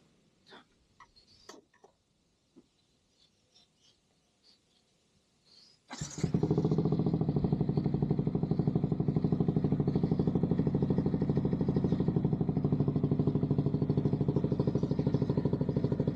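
A Yamaha XSR 155 motorcycle fitted with a new muffler, with a few faint clicks and taps before the engine fires up at about six seconds and settles into a steady, loud, deep idle that continues to the end.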